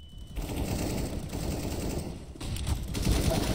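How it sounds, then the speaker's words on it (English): Gunfire in a CS GO match at a university esports event, steady clattering rapid shots throughout, fairly close and loud with no clear talk. "Nice frag coming out from Ness there on glasses, but Exhale once again comes in, getting a double frag on both Harry and James"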